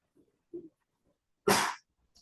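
One sharp, explosive sneeze close by, preceded by a couple of small breathy catches.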